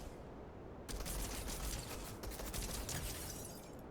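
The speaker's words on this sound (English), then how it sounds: "Shoot the legendary tactical pistol." Rapid bursts of tactical pistol gunfire in Fortnite crackle in a dense, continuous volley, with sharp repeated shots over a busy mechanical background.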